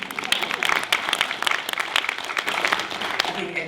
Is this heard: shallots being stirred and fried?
no